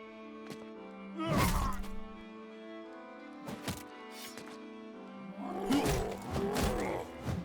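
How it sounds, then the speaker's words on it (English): An armored unhold monster attacks in the video game Battle Brothers, with two loud roaring, thudding bursts over steady game music and a third growling crash near the end. "He's about to be hit by an elevated armored unhold."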